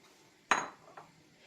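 A single sharp clink as dried raisins drop into a metal pot on a stove for aşure, followed by a fainter second tap, quiet and close.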